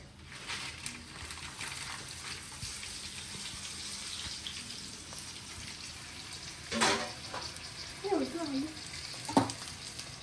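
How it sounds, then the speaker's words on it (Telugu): Dried red chilies hiss and sizzle in very hot oil while chicken pickle is being made, a steady loud frying roar with some stirring and clinks near the end. "అండ్ ఇప్పుడు ఆయిల్లో నేను ఎండమిరపకాయలు వేసేస్తా."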